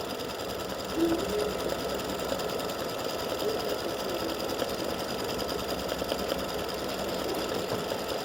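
An embroidery machine stitching white thread runs steadily with a continuous whirring, rapid needle rhythm, close and loud with no talking.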